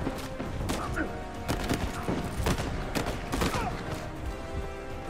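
Rapid bursts of gunfire and scattered single shots from the Uncharted 4 video game crackle throughout a firefight, with overlapping volleys and game effects forming a dense, busy background.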